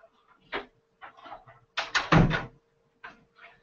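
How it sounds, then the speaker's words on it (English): A door swings shut indoors with a solid thud near the middle, among a few lighter knocks and rustles from a room close by. "I gotta shut my door."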